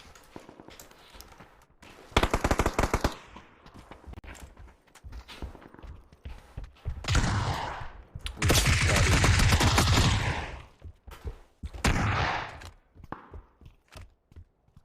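Rapid bursts of gunfire in a video game shootout, loud sharp volleys and sustained automatic fire with short pauses between, close and dominant with no talk.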